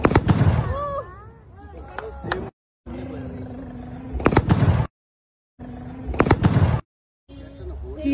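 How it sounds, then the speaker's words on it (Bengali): A homemade carbide gas cannon lit with a gas lighter fires loud booms outdoors, several sharp blasts separated by brief silences, with voices talking between shots. "গ্যাসটা কমপ্লিট হয়ে যাওয়ার পর একটুখানি নাড়ি চাড়ি দিতে হবে, তারপর গ্যাস জ্বালানো লাইটারটা প্রেস করলেই বুম।"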